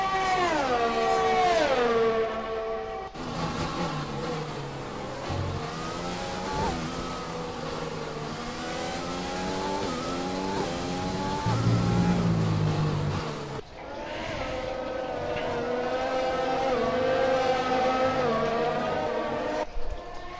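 Formula 1 car engines scream in the F1 2020 video game at the Russian Grand Prix, high-pitched revs climbing and dropping through gear shifts, loud and continuous from on board.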